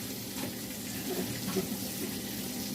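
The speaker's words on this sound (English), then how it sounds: "put these green beans rinsed off and toss inside there" Green beans get rinsed under running water, a steady close splashing and gurgling stream from a tap that carries on without a break.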